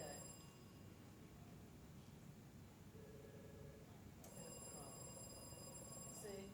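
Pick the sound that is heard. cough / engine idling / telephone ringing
telephone ringing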